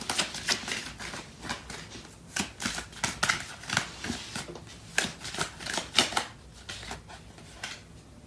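Tarot cards being shuffled by hand: a quick run of crisp riffles and soft slaps, repeating irregularly and close up, with no talking.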